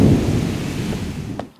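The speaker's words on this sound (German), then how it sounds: "Clemens lässt Regenwolken kommen." A low rumble of thunder rolls over steady rain, fading out toward the end.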